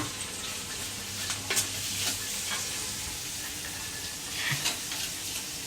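A capsicum and egg curry sizzles gently in a pan over a low flame while a spoon stirs it, scraping and clinking now and then against the steady soft frying hiss.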